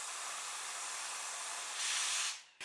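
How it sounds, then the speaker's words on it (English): Steady broadband hiss of compressed air assist blowing at the cutting head of a diode laser cutter, continuous and close, swelling louder near the end before cutting off. "Compressed air again."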